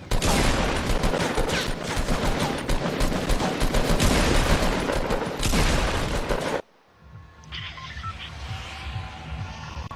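Burst-fire gun shooting in the Fortnite video game: loud, rapid volleys of gunshots crackle continuously for several seconds, then cut off abruptly to quieter game ambience with faint distant activity.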